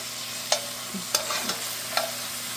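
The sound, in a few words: onions sautéing in oil in a pan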